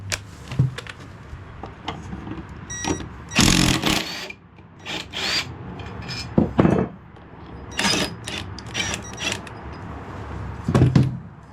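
Socket wrench loosening the blade bolt on a Toro LX 426 lawn mower, heard as a series of close ratcheting clicks and metallic clanks in irregular bursts, with quieter handling noise between them.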